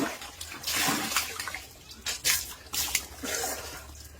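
Water splashes and trickles from a homemade fountain, a steady close wash of flowing liquid with irregular louder gushes and spatters throughout.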